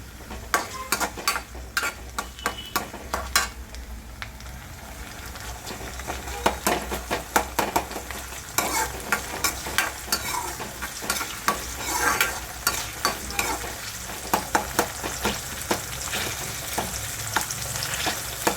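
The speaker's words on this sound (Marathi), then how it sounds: "आपण आपला कांदा भाजत आहे कांदा भाजून घेते" Onion frying in a pan for a Sangli-style bhogi vegetable dish, heard as a continuous sizzle broken by rapid, repeated scraping and clacking of a spatula, close and fairly loud, with no talk.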